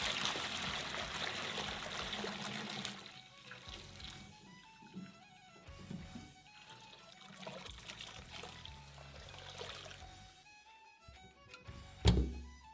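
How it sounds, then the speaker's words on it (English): Hot water pours steadily into a sous vide container with a continuous trickling splash, ending in a hollow thunk, close by and fairly quiet. "Now let's pour hot water into the sous vide."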